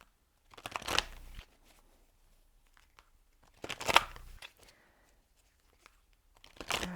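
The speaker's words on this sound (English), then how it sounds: "So I'm going to pull an energy deck card for you guys." Shuffling of an energy deck of cards: three short bursts of riffling and crisp paper flutter, separated by quiet pauses.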